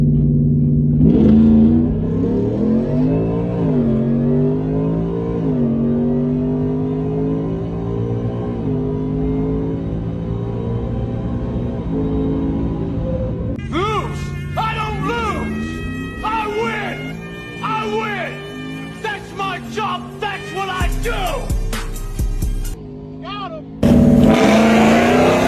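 Ram Rumble Bee truck fitted with a Whipple supercharger revving, a loud deep engine drone rising and falling for several seconds before giving way to sharper bursts and revs, with talking mixed in over parts.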